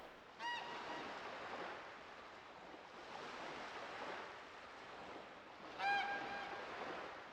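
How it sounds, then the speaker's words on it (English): A persistent seagull gives two bursts of honking cries, a few seconds apart, over a steady wash of waves or surf. The calls are moderately near and stand alone without talk. "And listening to a very persistent seagull."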